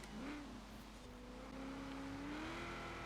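A classic Ford in Forza Horizon 4, fitted with a naturally aspirated 6.2-litre LS V8, revs up in-game with a steady droning engine note that climbs gradually in pitch, loud and continuous throughout.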